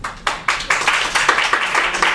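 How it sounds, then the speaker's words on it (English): An audience at a story slam in a bar claps loudly to vote, a crowd of hands starting abruptly and building into brisk, loud clapping with rhythmic surges. "If you think that Karen is a liar with her story, clap nice and loud, everybody."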